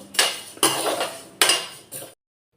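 Roasted spices scraped out of a kadhai onto a metal plate for homemade pickle, heard as four loud, close metallic scrapes and clanks, each trailing off, before sudden silence.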